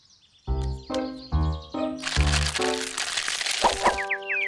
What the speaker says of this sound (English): That was the cracking and crunching noise.